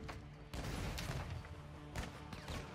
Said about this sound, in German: Frag mich gerade, von wo die Schüsse herkommen.